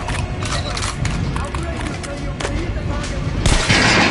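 Gunshots at a training dummy in a PS4 shooter tutorial ring out as sharp separate cracks over a busy background, with a voice talking and a heavier blast near the end.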